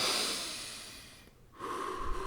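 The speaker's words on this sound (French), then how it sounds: "essaye de prendre de profondes respirations" A deep, deliberate breath, drawn in and slowly let out, close and alone with no talking, after a brief quiet gap.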